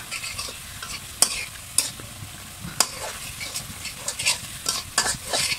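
Spice masala for tripe curry sizzles and fries steadily while a utensil stirs and scrapes through it, with sharp clinks and scrapes recurring irregularly over the continuous crackle.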